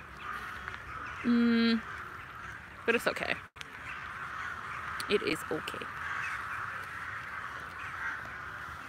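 Birds in Łazienki Park, Warsaw, give a few short caws and a brief honking, quack-like call over faint outdoor ambience. Casual talk can be heard alongside them.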